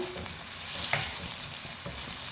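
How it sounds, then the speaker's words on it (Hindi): Onions frying in a pot over a medium flame for aloo gosht, a steady close sizzle with occasional stirring scrapes, no voices. "प्याज़ों को हम मीडियम फ्लेम पर फ्राई कर रहे हैं।"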